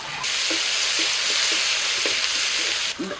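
Green chillies, ginger paste and turmeric frying in hot oil in a wok, a loud continuous sizzle close by with a few soft spoon knocks throughout.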